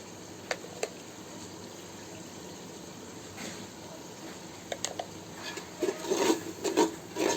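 A spoon stirs turmeric and cumin powder in a pan for khichuri, soft intermittent scraping and rubbing that grows busier and louder in the final seconds.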